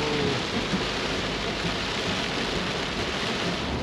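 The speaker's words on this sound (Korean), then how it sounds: "갑자기 비가 시작됩니다." Heavy rain pours steadily outdoors during a visit in Tanzania, a dense, continuous hiss that stays loud and even throughout with no voices.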